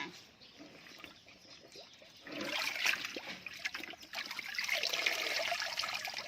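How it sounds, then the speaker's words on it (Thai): Bunches of leaves rinsed in water, starting with a soft trickle and swelling into louder splashing and sloshing from about halfway through, close by with no voices. "เสร็จแล้วก็นำมาล้างน้ำค่ะ"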